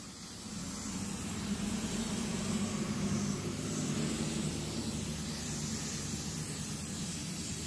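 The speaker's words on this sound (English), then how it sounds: "So, just evenly spray it on there." Aerosol sealant sprayed evenly over a diamond painting, a steady close hiss running several seconds without a break, with no talk.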